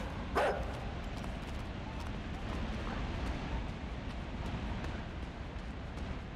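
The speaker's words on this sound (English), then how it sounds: "Oh crap, it's a dog." A dog in the video game INSIDE lets out one short bark near the start, then a steady, noisy game ambience continues underneath without further barking.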